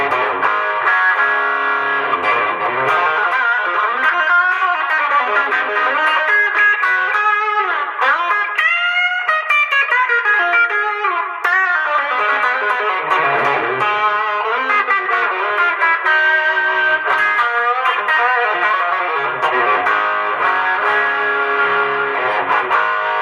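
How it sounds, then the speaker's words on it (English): Electric guitar through an overdrive pedal set like a Tube Screamer plays a long, continuous lead passage with sliding notes and bends. The crunchy, slightly echoing tone stays loud and steady, with no talking. "And my second pedal is kind of set like that tube screamer side."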